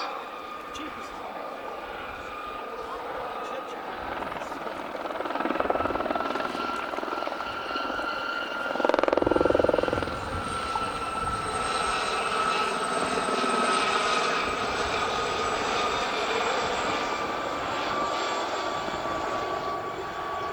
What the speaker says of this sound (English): Now leading the pair in, coming in now from the left, is another ex-Royal Air Force Gazelle